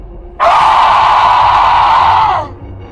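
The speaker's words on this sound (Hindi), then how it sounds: "तभी पूरे गांव में एक भयानक चीख गूंजी" A witch's terrible scream echoes through a village: one loud, sustained shriek lasting about two seconds that starts abruptly and fades at the end.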